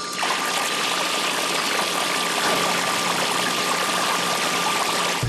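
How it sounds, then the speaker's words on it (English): Sump pumps drain flooded basements beside the Pawtuxet River in Cranston, discharging water in a steady, loud, close rushing pour with a faint whine and no talking. "Pumps draining basements trying to stay ahead of tonight's expected rain as homeowners wait and worry."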